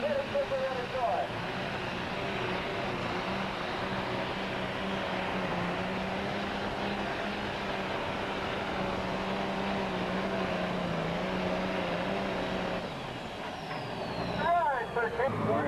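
Pro stock pulling tractor engine at a tractor pull in Saline, Michigan, a loud sustained drone building RPM at a distance, with an announcer talking over it.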